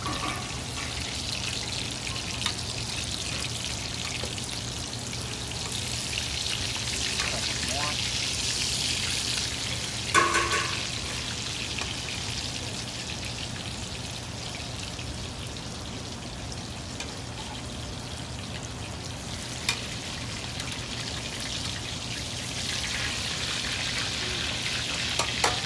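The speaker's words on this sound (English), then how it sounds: "Now we're pan frying about 12 of these." Breaded pork cutlets, about a dozen, pan frying in a skillet, giving a steady dense sizzle and crackle that runs throughout, with a few louder pops and light kitchen clatter mixed in.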